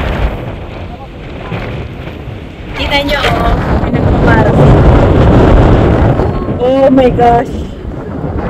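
Strong wind buffets the microphone at World's End in Norway, a steady heavy rumble throughout, with excited voices talking and exclaiming over it.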